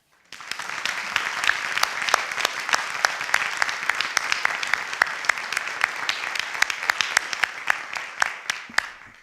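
A seated audience gives a steady round of applause welcoming speakers at a talk on Benedictine education, the dense clapping swelling quickly and holding for several seconds before fading.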